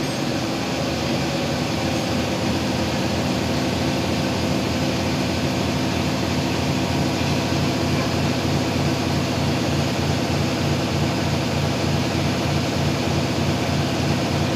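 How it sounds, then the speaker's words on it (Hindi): A Mahindra Blazo BS6 truck engine with a fault that keeps it from revving freely runs at full throttle, a loud, continuous, close diesel roar with a steady throbbing drone and no letup; no one speaks. "अभी दो एम बार है फुल रेस कर रहा है यहाँ पे"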